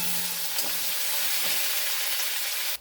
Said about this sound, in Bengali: পেঁয়াজটা খুব ভালো করে ভাজা হয়ে গেছে